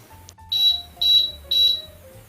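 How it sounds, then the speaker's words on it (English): An Amstrad PCW 9512 computer loaded without its operating system gives three evenly spaced high electronic beeps, each about half a second long, fairly loud over a low background hum. "if you try and load without the operating system, it doesn't. There's no boot. It beeps and says, go away"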